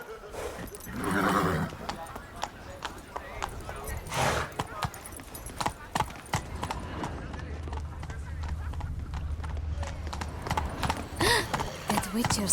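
A horse in The Witcher 3 trots and gallops with steady clip-clopping hoofbeats, and a brief snort or whinny is heard, while voices talk over the gameplay throughout.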